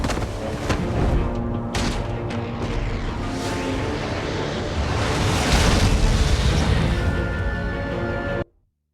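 A dense, loud explosion in Batman: The Enemy Within, with booming low rumble and crashing debris that roars steadily for about eight seconds before cutting off abruptly into silence.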